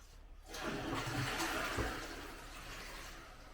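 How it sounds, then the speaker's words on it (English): A household toilet being flushed after cleaning, a loud rushing surge of water that swells quickly and then drains steadily for several seconds, close by with no talking. "Okay, now flush that away."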